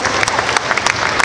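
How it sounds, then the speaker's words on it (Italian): Loud, close applause from the crowd at the Como Fun 2022 convention, brisk clapping with a few sharp individual claps standing out, lasting just over a second. "Grazie, un applauso Davide."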